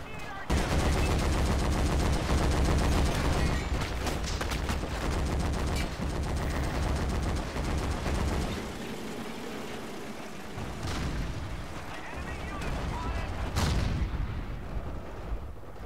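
Heavy automatic gunfire from an MG42 machine gun in the World War II shooter Forgotten Hope 2, steady and loud for most of the stretch with explosions and a voice mixed in.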